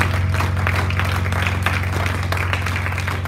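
Church congregation applauding during a ministry broadcast, a steady wash of clapping that fills the whole stretch under a constant low hum, loud and close with no distinct individual claps.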